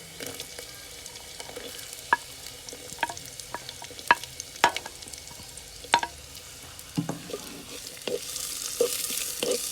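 Onions, then garlic, sautéing in a clay pot for a prawn roast, with a soft sizzle under sharp scraping and clattering strokes of a spoon stirring at irregular intervals, close and alone.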